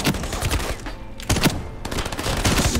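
Rapid bursts of gunfire from a free first-person shooter video game, loud and close, several clustered volleys separated by short gaps.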